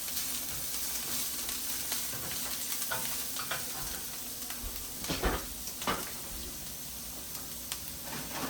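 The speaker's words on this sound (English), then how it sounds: "I'm gonna give them a bit of saute." Ingredients sautéing in a pan, a constant crackling sizzle with stirring scrapes and a few louder clinks of the utensil near the middle.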